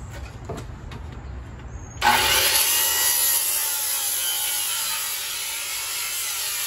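A saw cuts into a wooden rafter at a 10 inch pitch, a sudden loud, close, steady rasping burst that keeps going after quieter low noise, with no talk.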